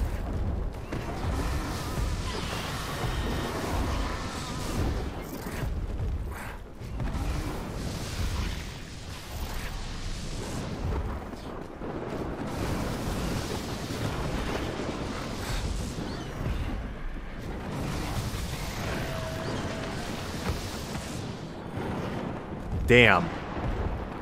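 An overpowered lightning wyvern's beam attack in ARK Survival Ascended: a dense, loud, continuous crackling roar with rumbling low end, sustained across the stretch with a sharper burst near the end, while someone talks over it.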